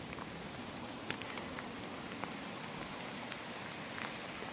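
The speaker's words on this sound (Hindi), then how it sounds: "ये देखें, ज़ालाबारी स्टार्ट हो चुकी है। और काफ़ी तेज़ है।" Heavy hail falling in the mountains on a glacier trail, a steady dense patter with scattered sharper ice impacts, fairly quiet and continuous with no talk.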